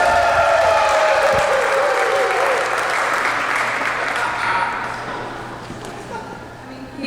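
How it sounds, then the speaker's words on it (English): Wedding guests applauding the toast givers at a reception, a loud full burst of clapping from a crowd that gradually tapers off, with a few voices mixed in. "how about a big round of applause for all of your toasts?"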